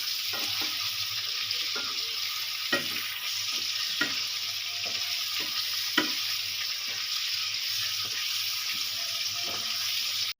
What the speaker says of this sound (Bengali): চিকেনটা আমি দু মিনিট মতন ভালো করে একটু কষিয়ে নেব